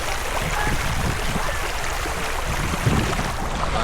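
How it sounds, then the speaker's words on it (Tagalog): A river rushes and burbles continuously at a riverside campsite in General Nakar, broadband water noise close and loud throughout with no talk over it. "Tapos yung tunog ng ilog."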